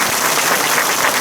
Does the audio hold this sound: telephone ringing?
no